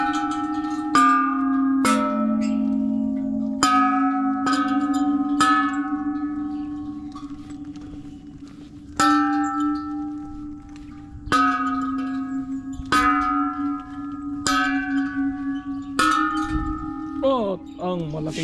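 Temple bells in a Hatyai municipal park in Thailand ring as a series of about a dozen sharp metallic strikes at an irregular pace, each tone ringing on and overlapping the next, close and loud.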